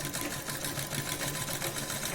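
A sewing machine runs a line of stitching along the sleeve of a princess-cut blouse, giving a fast, steady whirring rattle that stays close and loud the whole way through, with no talking.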